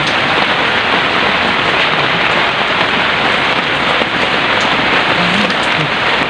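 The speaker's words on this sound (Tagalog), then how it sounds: "Ayun, talagang dire-diretso talaga yung pag-ulan." Heavy rain pours outdoors at a fishing spot, a loud, dense and unbroken hiss that fills the whole scene with no voices.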